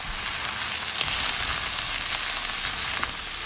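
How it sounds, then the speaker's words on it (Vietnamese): Carrots and green and red peppers stir-fried in a hot pan for Hong Kong-style chicken chow mein, giving a steady, loud, unbroken sizzle with faint scraping, and no voices. "mình cho đồ lê guin vô đây xào nha"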